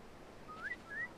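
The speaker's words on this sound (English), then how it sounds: "If I whistle, will I alert him?" A game character whistles in Assassin's Creed 4: Freedom Cry to lure a guard, two short rising whistle tones one after the other, clear and fairly close over quiet background.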